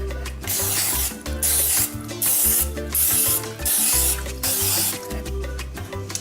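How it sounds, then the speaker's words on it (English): Repeated bursts of hissing oil spray onto a donut pan, several short blasts in a row over a steady low hum in the background. "we're gonna get a donut pan and do a oil spray"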